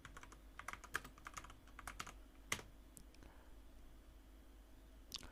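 Typing on a computer keyboard to search the code editor's extensions list, with quiet close key clicks in irregular clusters and a louder tap near the end.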